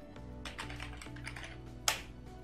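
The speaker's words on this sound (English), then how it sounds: "So I can start typing again without touching my mouse." Typing on a computer keyboard at a desk, a steady run of quick clicking keystrokes close to the microphone, ending with one sharper louder key press.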